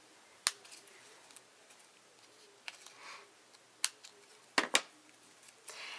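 Scissors cut a little V into a spool house craft piece, a handful of sharp, isolated snips and clicks spaced irregularly in an otherwise quiet room.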